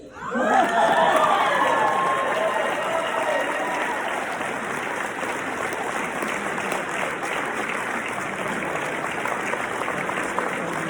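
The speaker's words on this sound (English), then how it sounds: "I get tepid applause and you get big applause" Loud, sustained applause from a large crowd fills the whole stretch, with scattered cheers rising in the first moments before settling into steady clapping.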